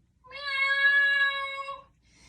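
A single drawn-out meow imitated by a human voice, clear and close, lasting over a second with no other sounds around it.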